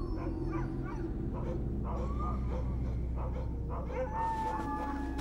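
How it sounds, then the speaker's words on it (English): Sled dogs tied up at a camp in the Alaskan wilderness, several of them barking, yipping and whimpering in overlapping bursts over a constant low hum, fairly close and loud. "He tied his dogs up and poured out a watery broth for them."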